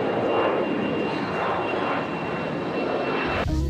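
Airplane taking off from Pinto Martins International Airport, passing over a rural property at Lagoa Redonda on the departure route: a loud, continuous broadband engine roar sustained throughout, ending abruptly.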